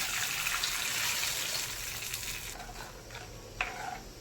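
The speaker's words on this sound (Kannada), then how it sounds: "ಹಾಗೆ ಕುದಿಬೇಕು, ಹಸಿ ವಾಸನೆ ಹೋಗೋವರೆಗೂ" Masala for a fish curry boiling in a pan, with mustard seeds, fenugreek, chillies and curry leaves: a soft, continuous bubbling hiss close by, easing slightly toward the end with a faint clink.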